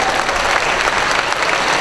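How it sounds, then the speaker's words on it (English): Audience at a Georgia GOP convention applauding, a dense, loud, steady wash of clapping from many hands filling a large hall, with no voices over it. "they deserve an applause"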